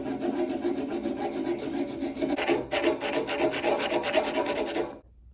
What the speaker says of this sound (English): buy a 99-cent metal grinder file